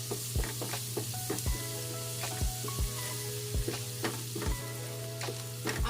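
Garlic sizzles steadily while frying in a pan for garlic shrimp with oyster sauce, a continuous crackling hiss broken by regular soft knocks of stirring, close and fairly quiet with no talking.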